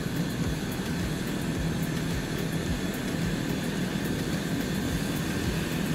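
Turbine engine of a Black Square Duke Turbine spooling up in a flight simulator, a steady dense roar with a low rumbling drone, continuous and loud with no talk.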